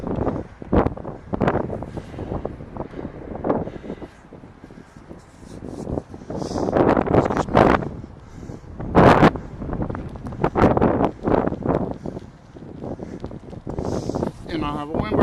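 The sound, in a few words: strong wind blowing while cycling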